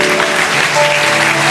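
Loud, full applause from a church congregation during a Sunday sermon, dense clapping throughout with faint sustained instrumental tones underneath.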